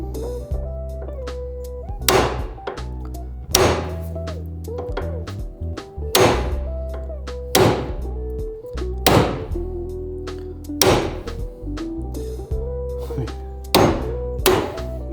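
A heavy hammer strikes the track rod end on a classic Mini Cooper in about nine sharp metallic blows, spaced roughly every one to two seconds, each ringing briefly over a low steady hum, close and loud.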